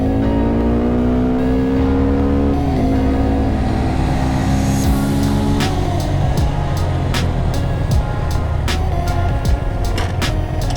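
Motorcycle engine accelerating during a speed test, a steady loud drone that climbs in pitch through gear changes, with wind and clicking noise building as speed rises; no talking.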